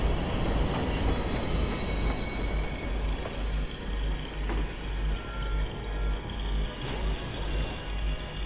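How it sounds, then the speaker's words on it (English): A video game train arriving at a station rumbles steadily with a constant low roar and faint wheel squeals, loud and close, with no voices. "Southbound train arriving shortly."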